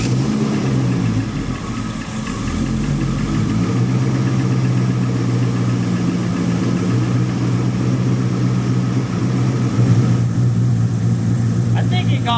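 Turbocharged car engine idling in a continuous, loud rumble just after an exhaust leak repair, with a steady, deep pulsing throughout and a slight rise in the final seconds.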